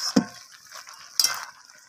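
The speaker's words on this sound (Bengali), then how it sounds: "এরপর আমি শাকটাকে সবজির সাথে মিশিয়ে দেবো এইভাবে" Two sharp scrapes of a spoon or spatula against a pan as wilted spinach is stirred into cooked vegetables, with a softer shuffling scrape between them.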